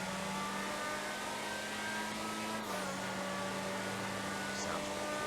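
A Pfister 811 supercar in GTA Online accelerates down a straight with a steady, buzzing engine drone that holds one pitch and then shifts down a step, under a continuous game soundscape.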